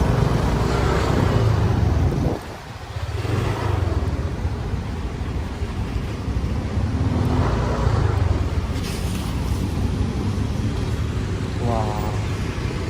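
BMW X6 driving past, a low engine and road rumble that dips briefly and then builds again, with faint voices in the background.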